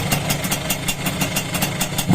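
A stock Suzuki X4 motorcycle engine idles quietly and evenly, with a steady, rapid low chug and regular exhaust pulses throughout, heard close and alone.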